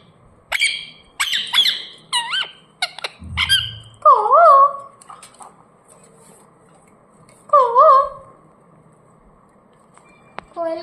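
Ringneck parrot giving a run of sharp squawks and chirps, then two loud warbling whistled calls, close up and indoors, with a brief low thump in between.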